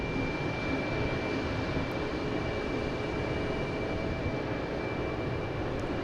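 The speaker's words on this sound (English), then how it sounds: "JetBlue come in here from Reagan, A220, flight 2754" A JetBlue Airbus A220 jet arriving from Reagan at Boston Logan, heard as a steady, fairly loud broadband engine roar with a faint whine, holding level throughout with no talk.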